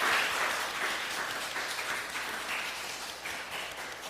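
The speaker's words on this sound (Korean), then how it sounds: "우리 뜨거운 박수로 이분들을 앞으로 환영하겠습니다" Church congregation applauding to welcome children's prize winners forward at a Sunday service, a steady, dense wash of clapping from many hands, fairly close and continuous throughout.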